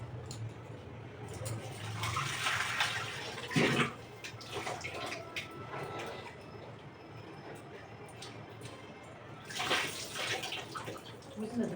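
Holy basil leaves are washed under running water in a home, giving a soft continuous splashing and trickle with a few louder gushes, under faint background voices.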